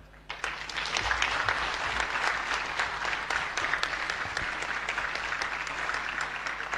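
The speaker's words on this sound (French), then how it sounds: "Je demande aux honorables conseillers nationaux d'acclamer Monsieur le Président de la République pour la facilitation de ce travail." National councillors applaud the President of the Republic in a Guinean assembly hall, sustained crisp clapping from a large audience starting abruptly and holding steady for several seconds with no talk.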